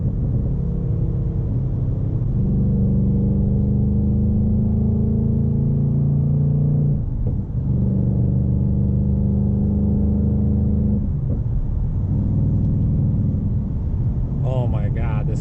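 A Ford Mustang GT Bullitt with Whiteline lowering springs and MagneRide, driven hard through corners, gives a continuous deep engine rumble and road noise. It swells and dips slightly with throttle, heard from inside the car.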